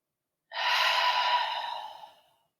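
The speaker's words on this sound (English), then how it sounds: "But just a few deep breaths." One long, deep exhale during a yoga session, close and breathy, swelling quickly and then tapering off slowly into silence.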